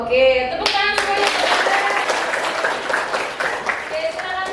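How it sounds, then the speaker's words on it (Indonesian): A classroom of students claps their hands together in a dense burst of close, lively applause, with voices calling out over the clapping throughout. "Oke, tepuk tangan semuanya."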